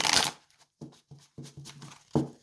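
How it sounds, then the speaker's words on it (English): A deck of reading cards being shuffled by hand, a sharp riffle followed by several short papery bursts of cards sliding and tapping together, close and alone with no talking. "Let's do a little shuffle."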